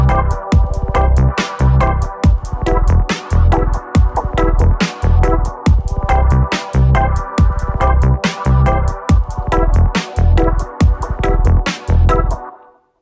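A dub-influenced demo song built on just two chords, with steady rhythmic chord stabs and a punchy beat playing loud and alone for about twelve seconds before stopping abruptly.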